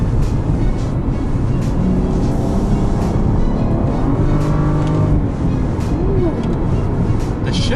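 BMW F32 435i with a regular automatic gearbox accelerating hard, a loud sustained engine roar heard from inside the cabin, its pitch climbing and dropping through quick successive gear changes.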